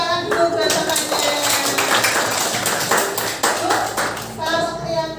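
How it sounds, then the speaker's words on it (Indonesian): A class of schoolchildren claps for a classmate, producing several seconds of loud, dense, fast clapping from a small group in a classroom, with some children's voices mixed in. "Ya, tepuk tangan dulu buat temannya."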